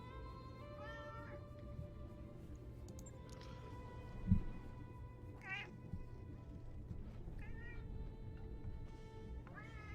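A cat meows several times, short wavering calls spaced across the clip over a steady low hum, with one brief louder bump midway; no one speaks.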